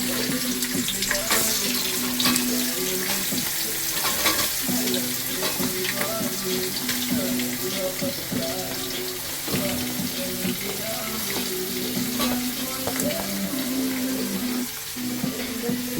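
Sliced onions dropped into hot oil in a pan give a continuous close sizzle and crackle, steady throughout with faint scraping underneath.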